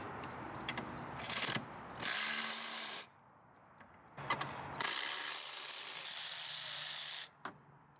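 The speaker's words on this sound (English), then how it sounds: "Remove the bracket nuts." Ratchet wrench removing the bracket nuts from the airflow meter on a Jaguar XJ6 Series 3 engine, heard as two long bursts of rapid clicking, close and loud, with quieter mechanical handling between them.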